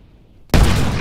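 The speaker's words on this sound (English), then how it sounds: "the gas flows out and ignites immediately, causing a violent explosion, a so-called boiling liquid expanding vapor explosion, or BLEVE" A gas cylinder ruptures in a boiling liquid expanding vapour explosion: after a near-silent lead-in, a sudden loud, broadband blast erupts at once and roars on as the clip ends.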